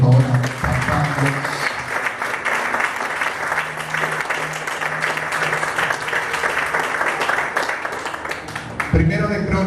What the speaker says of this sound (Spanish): Denle otro aplauso, por favor, a Papá Dios.